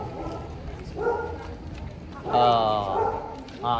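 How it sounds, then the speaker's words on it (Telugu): A dog barks a few times at moderate distance, with people talking around it. "ఈ కుక్క అవుతుంది, బేకార్ కుక్క"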